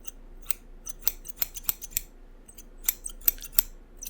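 Barber's scissors cutting hair, crisp close snips in quick irregular clusters separated by short pauses, crunching softly through the strands over a quiet background.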